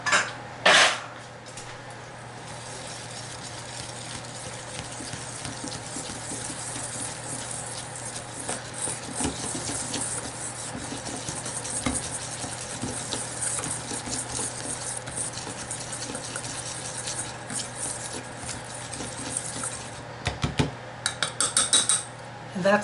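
Utensils clink and scrape against a bowl while a glaze of powdered sugar, milk and almond extract is stirred, with steady soft scraping and a few louder taps near the start and end.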